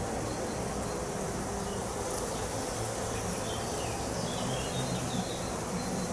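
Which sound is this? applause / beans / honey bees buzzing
honey bees buzzing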